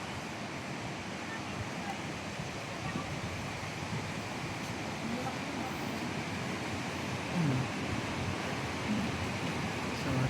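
Mountain water at Wawa Dam in Montalban rushes past large boulders in a continuous broadband roar that stays loud and steady, with voices faintly present beneath it.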